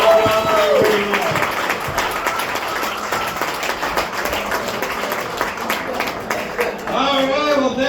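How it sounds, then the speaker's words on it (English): Clapping and cheering from a comedy club crowd at the Living Room after a stand-up set, a steady rolling applause lasting several seconds with a voice talking over it at the start and end. "Another round of applause for all the comedians."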